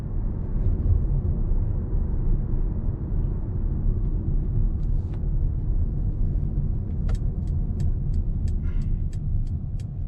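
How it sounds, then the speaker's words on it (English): Steady low road rumble and tire noise inside the cabin of a 2020 Mercedes-Benz A180 (W177) cruising at 50 km/h, even and continuous, with faint regular ticking toward the end. "Sound insulation here at 50 kilometers an hour is good."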